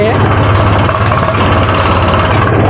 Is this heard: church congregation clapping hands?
no